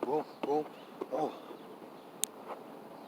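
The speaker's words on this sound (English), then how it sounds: "Bees out here." Bees buzzing outdoors in short, close bursts that swell and fade as they fly past, over a steady faint background hiss, with one sharp click near the end.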